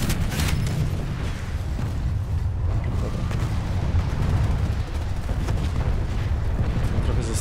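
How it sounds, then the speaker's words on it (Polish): Gunfire from above in the Planetside 2 multiplayer game, a dense, continuous rumble of booming shots and blasts that stays loud throughout, with a voice talking faintly beneath. "Tam ktoś strzela z góry."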